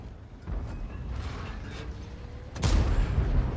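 A tank cannon fires in World of Tanks, a single deep boom landing late against a steady rumbling engine and mechanical background.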